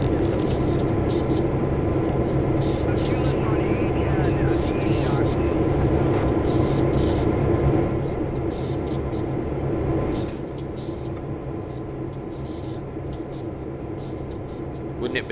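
A locomotive hums steadily with a continuous engine drone and faint rumble in the Train Sim World 6 game, switching cars at a Ford plant on the Oakville Subdivision; the tone drops slightly later.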